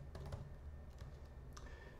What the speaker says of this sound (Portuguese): Então eu vou digitar aqui function